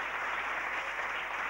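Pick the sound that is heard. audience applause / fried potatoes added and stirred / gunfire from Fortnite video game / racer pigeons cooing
audience applause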